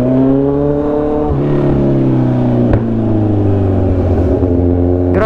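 A motorcycle engine at a busy gathering in Caloocan is revved hard and held high, a loud, close, sustained buzzing roar with brief dips between pushes of the throttle.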